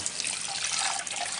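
Tap water runs steadily under strong pressure while Slowstar juicer parts are rinsed at a sink, a close, continuous hissing splash with no voices.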